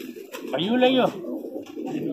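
A high flyer pigeon coos while being handled by its keeper in Agra. One clear, rounded cooing call swells and falls over a low room murmur, with faint voices around it.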